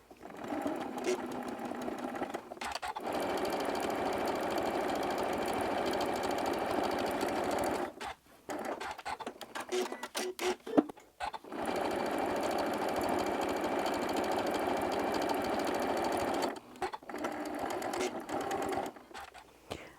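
A sewing machine stitches the sides of a fabric tissue holder with back stitches, running in steady whirring bursts with two short pauses, close and loud.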